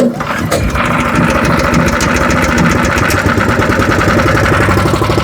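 A Harbor Freight wood chipper's small gas engine is pull-started and then runs at low setting, a loud, close, steady chugging rattle that fills the whole stretch with no speech.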